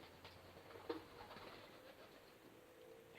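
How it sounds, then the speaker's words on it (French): Faint pigeon cooing rises briefly over a quiet, hushed background, soft and somewhat distant, as the pigeons fly off outside. "les pigeons se sont envolés dehors."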